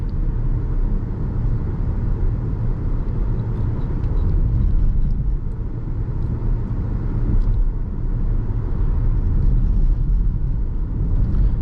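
A 2014 Audi Q7 Premium Plus 3.0T driving with its transmission in sport mode, giving a steady, loud low engine and road rumble with no clear shifts or revs standing out.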